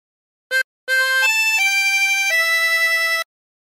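A harmonica plays a short phrase of the hymn There's a River of Life: one brief blown note, a pause, then a run of sustained, steady reedy notes stepping downward in pitch, played alone and up close.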